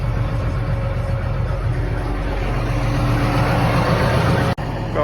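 A tractor engine idles while warming up, a steady low rumble held throughout at moderate loudness, with a brief dip near the end.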